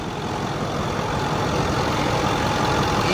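A lifted 2008 Ford F250 4x4 diesel truck with EGR delete and custom exhaust runs steadily, a loud, constant low rumble close by with no talk over it.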